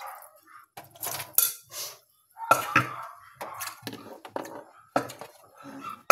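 Dishes and a cooking pot being washed in a kitchen: scattered clinks and clatters of metal and crockery, brisk irregular knocks and scrapes up close, with no talking.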